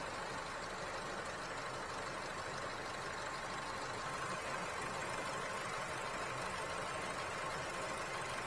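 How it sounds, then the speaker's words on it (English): With the engine idling, a car's air conditioning compressor runs as a faint, steady mechanical hum with a light knocking texture throughout. "you just heard the compressor kick on"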